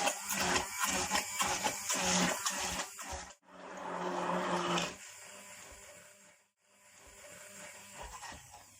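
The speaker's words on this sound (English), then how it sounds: "we are just going to blitz this to get rid of all of those lumps" A blender blitzes pumpkin soup in a kitchen, a loud whirring churn with choppy pulses that cuts out, restarts in a steadier grinding run, then stops and briefly resumes.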